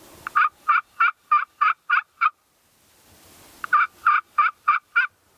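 A turkey call device held in a new hands-free mount imitates a turkey gobble: two rapid rattling bursts of about seven sharp notes each, loud and close, separated by a short pause with no talk.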